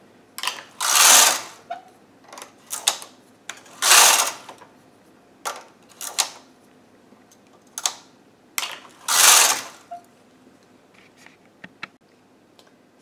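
A Studio 150 Chunky knitting machine working yarn, its carriage making repeated loud mechanical sweeps with clicks and rattles between passes, close and with no talking.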